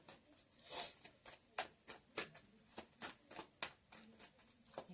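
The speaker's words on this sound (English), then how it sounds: "I was told to keep shuffling." Tarot cards are shuffled in steady, rapid riffles and taps, close and quiet, with no voices over them.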